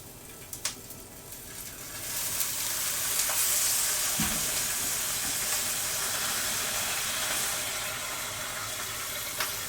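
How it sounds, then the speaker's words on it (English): Hot oil sizzling steadily in an overfilled pan on a kitchen stove, a loud continuous frying hiss with a few sharp pops, the flame off. "We've got oil. We overfilled our pan here,"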